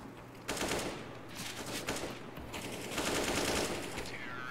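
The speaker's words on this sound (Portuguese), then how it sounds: "Só colocar arminha mesmo e trocar tiro." Gunfire exchange in a competitive shooter match, with rapid bursts of automatic fire and scattered shots layered densely and continuously at close range.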